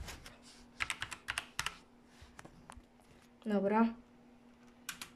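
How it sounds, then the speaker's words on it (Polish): Windows 8 password typed on a computer keyboard: a quick run of light key clicks in bursts, close and fairly clear, with someone speaking briefly and a short exclamation partway through. "pozwólcie, że sobie wklepię hasło"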